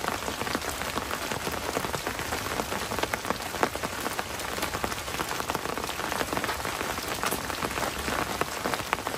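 Steady, dense rain patters on a transparent bubble tent at a campsite, a constant close hiss of countless drops striking the plastic without a break.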